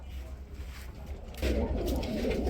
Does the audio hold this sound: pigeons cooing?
yes